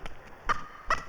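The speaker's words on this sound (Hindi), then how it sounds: "वो देख, वो हमारा पड़ोस का मुर्गी है" A neighbour's hen gives two short, sharp clucks about half a second apart, close and fairly loud over a quiet background.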